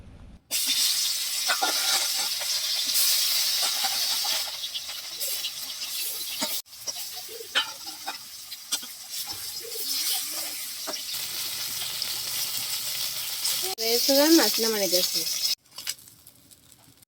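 Fish sizzles in hot mustard oil with salt and turmeric for a cauliflower and potato fish curry, a steady bright frying hiss with occasional stirring clinks, while someone talks over it.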